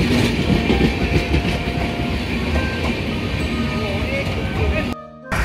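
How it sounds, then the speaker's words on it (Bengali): An express train runs steadily on the rails, a loud, continuous rumble with rhythmic rail clatter filling the carriage before cutting briefly to near silence at the end. "ট্রেন আমাদের বর্ধমান ছেড়ে গেল"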